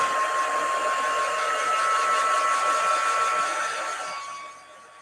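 A hair dryer blows on chalk paste on a door tag, a steady loud whooshing hiss with a constant whine that fades out at the end.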